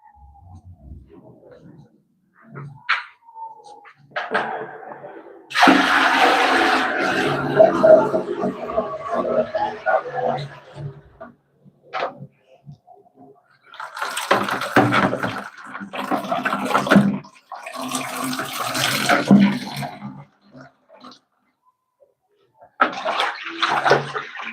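Water poured to wash pumpkin leaves for a traditional dish, coming in several loud splashing bursts separated by pauses, with quiet sounds of handling between them.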